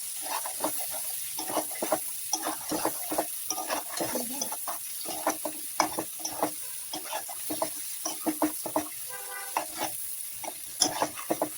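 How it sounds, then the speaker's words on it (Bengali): Shrimp and chopped onion fry in a pan for Bengali-style chingri bhuna, a steady close sizzle broken by rhythmic, repeated scrapes and clacks of a spatula stirring. "পেঁয়াজ দিয়ে মাছটাকে আরো কিছুক্ষণ সময় ধরে ভেজে নেব।"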